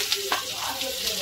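Tomatoes hit a hot frying pan while sev upma cooks, giving a steady close sizzle with faint stirring scrapes and a couple of brief crackling pops, no voices.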